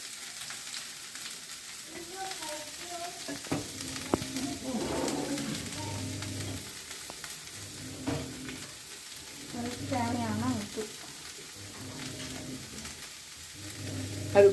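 Chopped cabbage sizzles and crackles steadily in a hot pan, with intermittent stirring and scraping noises, and faint bird cooing in the background.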